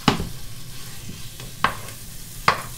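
Ground beef fries in its own released water in a pan with a little oil, giving a soft, steady sizzle broken by three sharp scrapes of a stirring utensil, with no talking.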